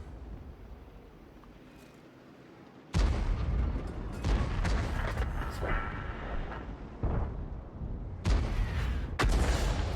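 A Crusader self-propelled artillery gun fires in the World of Tanks game, a sudden loud boom after quiet, followed by rumbling shell and battle noise with further sharp blasts close together.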